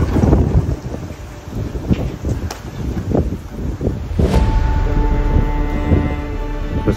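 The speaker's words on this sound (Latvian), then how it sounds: "Rīktīgs vējš nāk." Strong gusty wind buffets the microphone outdoors during a trip in Croatia under a dark sky, giving a constant loud rumble with rattling and clattering bursts.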